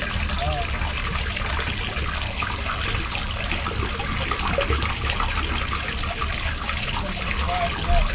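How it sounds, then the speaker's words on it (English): Water runs from a tap into a clogged bathtub drain, a steady trickling and splashing flow throughout, with voices heard now and then. "I'm gonna let the water run."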